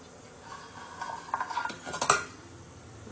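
Metal idli plates set one by one into a steamer pot of boiling water, giving a few scattered metallic clinks and clatters with a louder knock near the end, close by with no talking.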